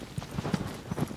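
In the video game Shadow of the Colossus, a horse gallops with quick, rhythmic hoof thuds at close range over a diffuse ambient wash. No voices are heard.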